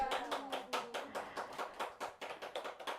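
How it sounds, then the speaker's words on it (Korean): An audience claps in steady, rapid applause at a Buddhist dharma talk, a dense wash of handclaps lasting several seconds at moderate volume without speech over it. "박수!"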